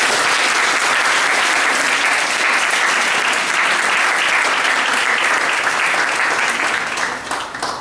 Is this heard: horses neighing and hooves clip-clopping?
no